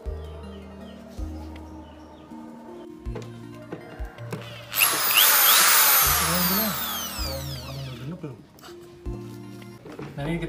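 A power drill whines loudly for a few seconds mid-clip, boring a cable hole while fitting a spoiler to a Daihatsu Sigra, with a rising and falling pitch, while a steady low hum runs throughout.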